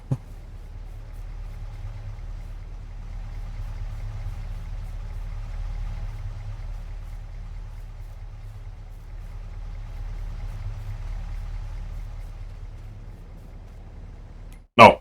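Steady low rumble of a tractor engine idling in Farming Simulator 22, continuous and even for the whole stretch, ending in a brief sharp click as it shuts off.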